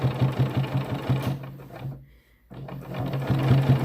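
A sewing machine stitches a Costco down throw being made into an underquilt, running in a rapid rhythmic chatter, pausing briefly, then resuming close and loud.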